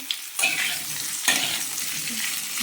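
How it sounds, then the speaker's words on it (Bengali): Papaya and pointed gourd pieces frying in a pan, a steady sizzle broken by two sharper scraping bursts as the vegetables are stirred. "পেঁপে এবং পটল এগুলো দিয়ে দিলাম দিয়ে একটু নাড়িয়ে দেবো"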